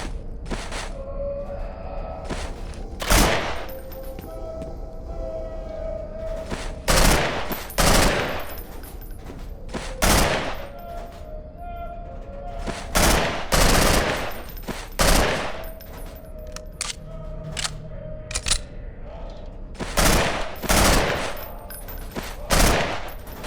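Rapid bursts of gunfire from the video game Underhell, fired at pop-up targets: loud, sharp volleys repeat every few seconds over a steady low background hum, with no talking.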